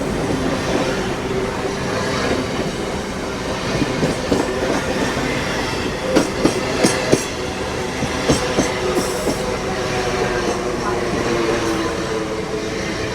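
A Mumbai local train running at night, its loud continuous rumble and rolling noise interrupted by a run of sharp rhythmic clickety-clack beats over the rail joints, with occasional squeal, heard from close by.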